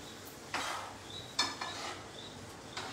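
A dish being mixed in a pan, with a few scattered scraping, stirring strokes and light sizzle at moderate volume, no voices.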